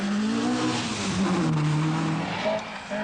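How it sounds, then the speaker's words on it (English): Rally cars compete in the 1979 RAC Rally, including a Datsun, with a loud, continuous engine roar and shifting revs that rise and fall, plus some tire noise, with no talk heard. "an incredible third now, Timo Salonen in the Datsun"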